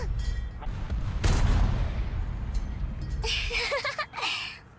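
Gunfire and heavy booms from the War Thunder video game crack in a few loud bursts over rumbling battle noise, with someone talking excitedly in between.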